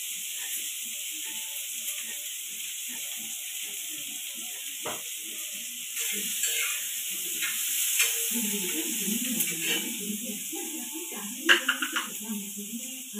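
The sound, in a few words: spices sizzling in hot oil for tempering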